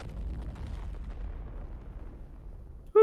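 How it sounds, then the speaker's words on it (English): A bomb blast in a flying video game: a sustained low, rumbling roar that slowly fades over several seconds, followed by a sharp loud burst at the very end. "Big explosion"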